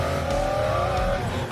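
A car's engine holds a steady, loud drone close by with a faint rising pitch, and a voice can be heard briefly underneath.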